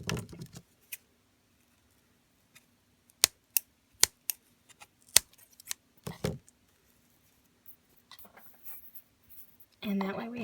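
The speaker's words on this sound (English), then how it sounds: "we just take our scissors and trim" Several sharp, isolated snips of scissors trimming excess jute string, spaced irregularly in an otherwise quiet room, with brief talk at the start and end.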